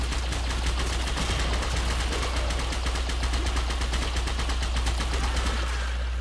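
Rapid secondary weapon gunfire in the video game Warframe, a continuous rattling stream of quick shots over a low steady hum, loud and sustained throughout.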